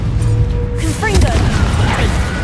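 Confringo blasting spell from the Hogwarts Legacy video game: a sudden bright, crackling burst of magic near the start, followed by shimmering whooshes and ringing magical tones over steady in-game combat noise.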